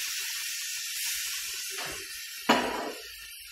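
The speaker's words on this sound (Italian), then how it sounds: "Adesso che sta bello friggendo, metto una spruzzatina di vino bianco." White wine splashed into a hot frying pan of zucchini already frying, giving a steady sizzle that erupts into a sudden loud, close hiss and then slowly dies back.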